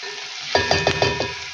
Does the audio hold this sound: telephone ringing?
no